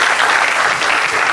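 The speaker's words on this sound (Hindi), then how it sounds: "गाइस कुशल दौनेरिया यार, जोरदार तालियां।" Audience at a live comedy crowdwork show applauding a comedian, a dense, steady wash of clapping that fills the short moment from start to end without a break.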